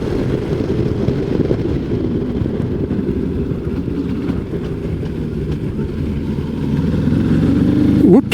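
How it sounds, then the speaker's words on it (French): A CFMOTO 700 MT mid-size adventure motorcycle ridden during a rear brake test, its engine a steady loud drone with wind rush, shifting slightly in pitch just before the end. "Allez, je vais tester les freinages, frein arrière, frein avant et les deux ensemble."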